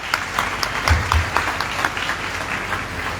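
A church congregation applauds at a Catholic confirmation service, a steady wash of clapping from many hands filling the room, moderately loud and continuous throughout.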